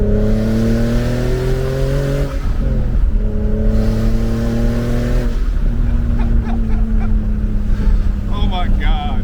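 A turbocharged BMW E36 revving hard with its wastegate dumping: a loud, close, droning engine whose pitch rises and falls, with a whooshing release toward the end and someone talking over it.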